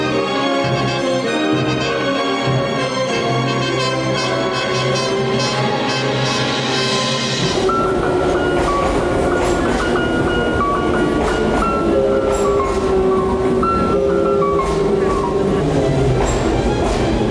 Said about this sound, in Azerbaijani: Qatar stansiyaya çatarkən